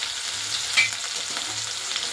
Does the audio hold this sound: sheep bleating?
no